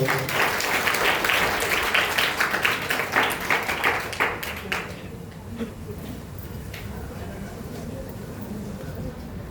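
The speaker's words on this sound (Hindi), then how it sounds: "जोरदार तालियां।" Loud crowd applause at an Independence Day (15 August) gathering, dense clapping for about five seconds that fades to scattered claps, with voices talking through it.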